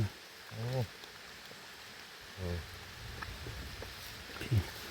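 Heavy rain falls outdoors in Thailand during termite-mushroom foraging, a soft, even hiss running throughout beneath short bursts of nearby voices.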